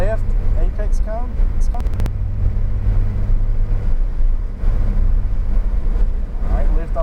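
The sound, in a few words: Porsche accelerating on a track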